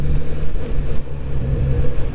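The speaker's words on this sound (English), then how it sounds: "So this is just a smooth engine" A 2022 Kawasaki Z900RS engine runs smoothly through its stock exhaust, a low, even rumble with gentle rises and dips in loudness, heard close with no voices.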